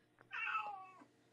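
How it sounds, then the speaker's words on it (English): A pet cat gives a single clear meow, close and fairly loud, rising then drawing out over about half a second in an otherwise quiet room with a faint low hum. "that was my cat."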